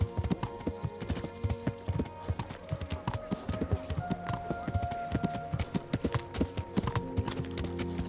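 Horse hooves gallop in a steady, rapid clip-clop rhythm while riding in the medieval video game Kingdom Come: Deliverance, with a heavily loaded horse, moderately close and alone with no voices.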